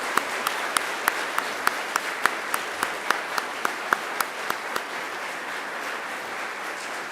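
Applause for graduates at a graduation ceremony, a steady crowd clapping sustained for several seconds with a few sharper individual claps standing out near the microphone.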